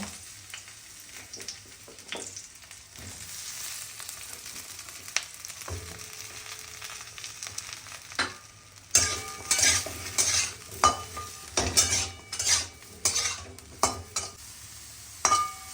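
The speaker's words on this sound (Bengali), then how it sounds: "বেগুনগুলো অল্প ফ্রাই করে নেব।" Eggplant pieces fry in a little hot oil with a soft sizzle, then a spatula clatters and scrapes against the pan in repeated stirring strokes.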